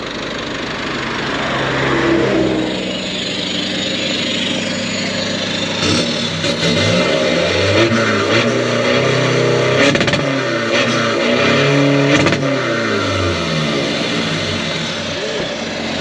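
Car engine with a stage 1 ECU remap, a 1.9 with a modified valve system, revs repeatedly in rising and falling bursts over a steady idle, close and loud, with faint voices in the background.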